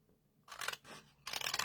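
Scissors snip through thin acetate sheet in a few short, crisp rasping cuts, close and quiet with brief pauses between them.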